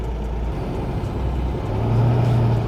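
A Toyota 4Runner drives along a rough dirt road, its engine rumbling steady and loud from inside the cabin, with a low drone that rises briefly toward the end.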